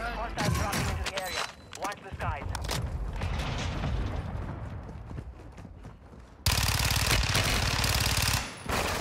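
Fennec 45 submachine gun fire in Warzone 2, with rapid bursts of shots and then a loud, dense, sustained stretch of gunfire near the end, mixed with other game sounds and a voice talking.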